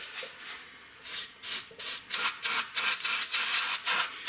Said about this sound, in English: I'm gonna spray it in an attempt to clean it.